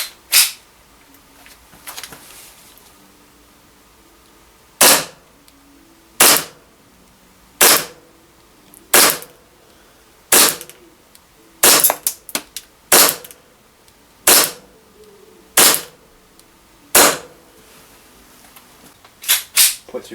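An Army Custom 4.3 Hi-Capa airsoft pistol fires 0.2 BBs in about fifteen sharp, snappy single shots spaced a second or so apart, with a quick double near the middle and quiet between.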